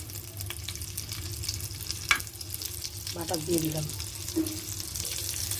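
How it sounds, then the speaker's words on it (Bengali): Chicken frying in butter in a frying pan gives a soft, steady sizzle, with a sharp utensil knock partway through and a faint voice-like tone murmuring over the frying. "চিকেনগুলো একটু ফ্রাই করে নিচ্ছি"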